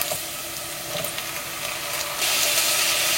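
Onions and tomatoes sauté in a pan for a Goan red masala chicken curry, giving a close, steady crackling sizzle that grows louder and denser partway through.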